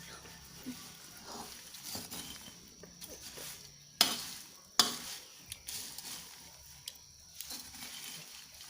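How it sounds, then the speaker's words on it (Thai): Insects deep-fry in a pan of hot oil, giving a quiet, continuous sizzle. Stirring scrapes and a couple of sharp utensil clacks against the pan break through it. "ทอดทอด ทอดจนมันไหม้เลยค่ะ"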